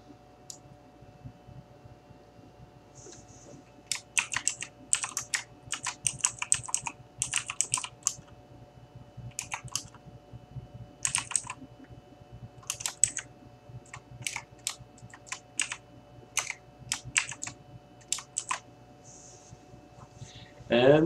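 Rapid clattering keystrokes on a computer keyboard as a caption is typed in Photoshop, coming in quick bursts with short pauses over a faint steady hum.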